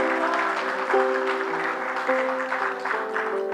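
Church congregation clapping their hands together in steady praise, a dense, continuous wash of applause under sustained organ or keyboard tones, with no gaps across the stretch.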